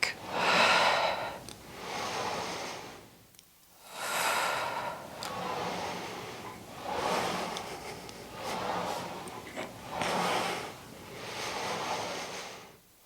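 Slow, steady breaths in and out during an intermediate full-body Pilates reformer exercise, each long airy exhale and inhale rising and fading in a regular rhythm, close and fairly soft with no talking.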